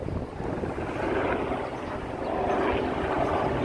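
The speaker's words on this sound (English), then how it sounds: "Helicopters." A steady rumbling drone of a helicopter passes overhead at Hudson River Park in New York City, swelling slightly louder toward the end, with a broad low roar and no voices.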